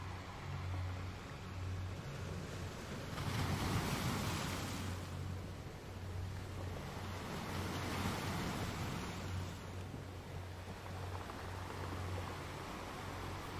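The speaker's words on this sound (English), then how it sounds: "you listen to the comforting sounds of the waves" Ocean waves wash steadily around a boat at anchor in a quiet cove, a soft continuous surf that rises in two broad swells, with a faint low hum and light wind and no voices.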